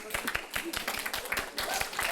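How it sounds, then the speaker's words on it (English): A small audience gives a round of applause at a storytelling session, quick scattered handclaps close by and fairly light, heard on their own for about two seconds. "A nice round of applause"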